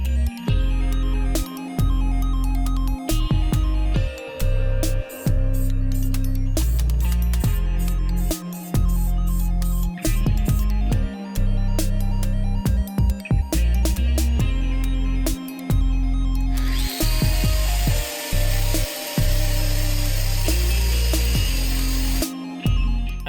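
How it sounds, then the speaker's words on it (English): Power grinder working rust off the cab of a CAT 299D compact track loader, then sanding, loud close whine in repeated bursts with short pauses and a harsher, hissier stretch near the end. "I took this opportunity to grind it down and then repaint it."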